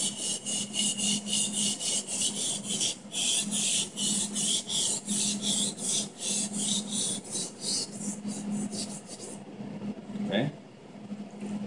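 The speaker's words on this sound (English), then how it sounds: "I got to get pressure on there, really sharpen that blade." A knife blade is ground hard against a sharpening stone in steady, rhythmic back-and-forth rasping strokes at close range. The strokes run continuously for about ten seconds, then stop.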